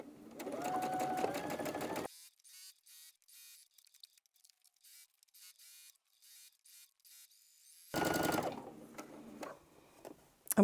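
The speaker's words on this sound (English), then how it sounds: "Oh, I need to do one more stitch." A sewing machine stitching a pillowcase from Tilda fabric, running in two steady whirring bursts with a few single stitch clicks between them, close and clear.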